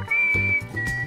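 Whistling in the PK XD video game, a steady sustained whistled tone lasting about half a second, then a second held whistle, over low game background music.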